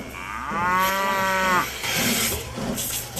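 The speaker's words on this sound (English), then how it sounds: "Our dairy herd of 200 cows consists mainly of Holsteins, a breed which originated in the Netherlands." Holstein dairy cows on a working farm, one long clear moo rising and holding for about a second before fading into ambient farmyard noise, fairly close and loud.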